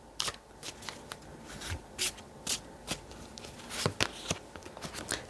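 Island Time Wellness oracle cards being shuffled by hand: close, crisp riffling and slapping bursts repeating irregularly, alone without speech.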